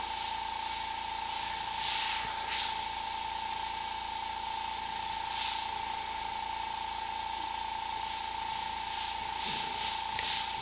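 An airbrush sprays paint while a skull design is painted, giving a steady close hiss with a constant tone running beneath it and several brief louder bursts of spray.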